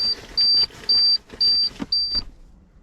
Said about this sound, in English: and it makes beeping noises